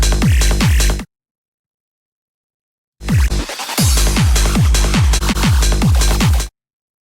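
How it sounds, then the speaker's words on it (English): A loud techno drop, heavily high-passed, with a pounding kick and dense thin upper noise playing in two bursts separated by about two seconds of silence. "And then you got a drop that sounds like this."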